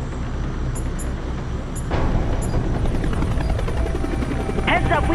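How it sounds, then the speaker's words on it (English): Enemy helicopters close in during HAWX 2 gameplay, their rotor thump chopping steadily under the game's engine and combat noise, growing louder after a sharp burst near the two-second mark. "Heads up, we got enemy helos closing in."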